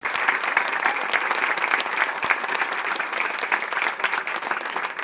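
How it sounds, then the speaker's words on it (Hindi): A standing audience at a Hindi poetry recitation applauds steadily, a dense, even wash of many hands clapping that holds at the same level throughout with no voices. "एक बार खड़े होकर इनके लिए तालियां बजाएं।"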